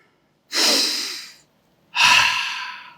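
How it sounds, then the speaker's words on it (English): Two deep, slow breaths during a handstand and mobility class, each a long airy rush lasting about a second, close and clear with silence between them. "3 more breaths"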